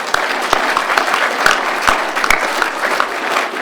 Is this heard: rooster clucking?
no